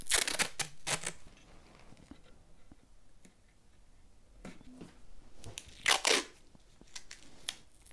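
Masking tape is ripped and torn in several quick, crisp bursts at close range, clustered at the start and again near the end, set up for 30-minute epoxy work on a twisted elm live-edge board.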